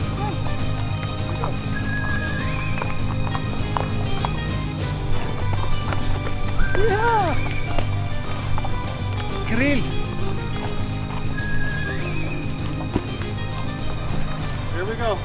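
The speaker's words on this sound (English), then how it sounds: "Going down the mountain with a horse is not my favorite part" A horse descends a mountain trail near Creel, Mexico, its hooves clopping steadily under running talk, while other animal calls and whinny-like sounds rise briefly in the background.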